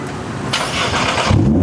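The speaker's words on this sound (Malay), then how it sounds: "Ayah start ayah punya kereta jap lah" A family's new car engine cranks and starts, a brief whirring crank followed by the engine catching into a steady idle, close and loud with no talk.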